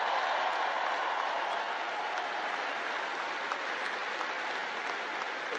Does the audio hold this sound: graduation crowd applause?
yes